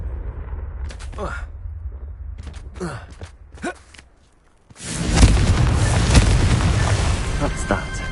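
A Confringo fire spell bursts in Hogwarts Legacy after a few short cast and footstep sounds, erupting into a loud, sustained fiery roar with crackling debris that fills the rest of the moment.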